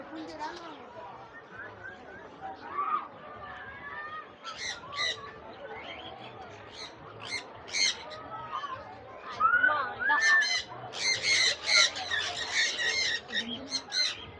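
Birds at Komachi park squawk and caw in repeated bursts that grow busier toward the end, while a person talks quietly in the background.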